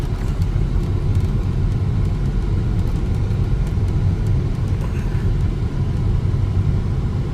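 Slow-moving lorries crawl up a mountain road in Georgia, a dense, continuous low engine rumble and road roar that holds steady and loud throughout, without speech.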